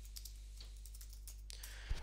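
Fingers tap out a quick run of keystrokes and a click on a computer keyboard while renaming a board in a web app, with light, irregular taps close by over a steady low hum.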